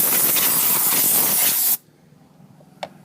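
A loud, steady blast of compressed air blows off car engine parts on a Mk6 GTI during a PCV replacement, hissing for under two seconds before cutting off abruptly into near silence with a small clack.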